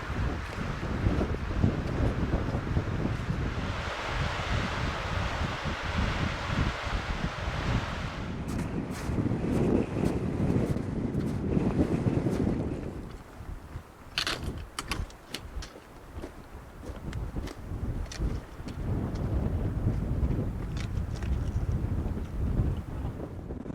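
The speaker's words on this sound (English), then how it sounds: "It's pretty windy though." Strong wind buffets the microphone in loud, roaring gusts that ease briefly midway before surging again, with no voices.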